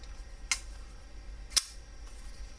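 Off-Grid Knives Viper flipper pocketknife snapping open: two sharp, quick metallic clicks about a second apart, close and crisp over a faint hiss, with no talking.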